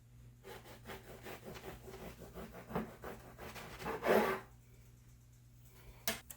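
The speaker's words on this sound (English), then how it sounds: "we're just gonna go ahead and slice our bread" A knife saws through a loaf of bread, cutting a slice about an inch thick: quiet rasping back-and-forth strokes building to a louder crusty crunch near the end, close and faint.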